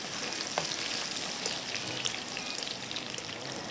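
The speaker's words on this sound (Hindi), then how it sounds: "हल्का सा इसको पहले मैं फ्राई कर लूँ," Onion frying in a pan for moong daal tarka, a steady dense sizzle with a few faint pops, continuous and close throughout, no voices.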